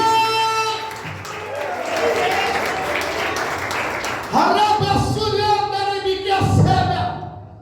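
Church congregation in Brazil applauding during a sermon, a swelling spread of clapping and cheers mixed with a preacher's voice and background music.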